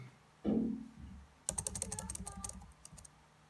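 Brisk typing on a computer keyboard, a quick run of light key clicks that is close and fairly quiet, following a single duller knock.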